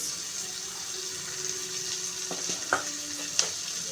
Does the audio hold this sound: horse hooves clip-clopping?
no